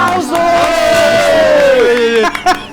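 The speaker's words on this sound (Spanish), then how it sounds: "¡Aplausos! ¡Aplausos!" Audience cheering and shouting after a talk, a loud crowd roar with one voice holding a long whooping yell over it.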